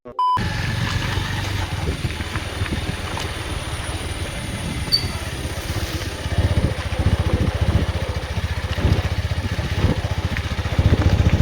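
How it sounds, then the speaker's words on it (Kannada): A motorcycle rides along a rough, potholed road near a temple, its engine running steadily for the whole stretch with repeated jolts and bumps rising toward the end. "ನಮ್ಮ ಬೈಕ್ ಡ್ರೈವರ್ ಸರಿ ಇಲ್ಲ ಎಲ್ಲಿ ಹೊಂಡ ಇದೆ ಅಲ್ಲೇ ಹಾಕ್ತವನೆ"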